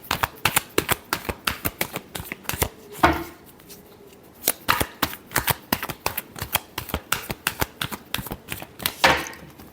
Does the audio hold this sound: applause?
no